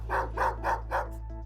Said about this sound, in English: If you study his bark, it's a very frantic bark.